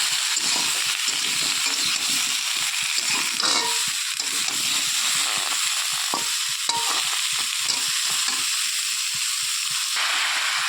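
Tomatoes with salt sauté in a pan, a close, steady sizzle with rhythmic scraping as a utensil stirs them, and no talking.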